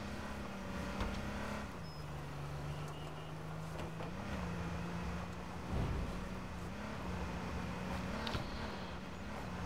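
A battered car engine drones steadily while driving in the H1Z1 video game, its low tone dipping and rising slightly with gear and throttle changes, moderately loud and continuous.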